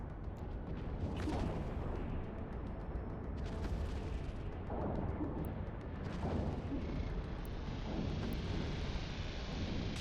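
Ship weapons firing in the space game EVE Online: several heavy, rumbling booms in separate bursts over a constant low drone, with no talk.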